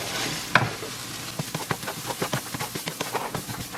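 Ingredients stirred and mixed in a pan for a budget family dinner produce a quick run of rhythmic scraping strokes over a soft sizzle, close and fairly quiet, with no talk.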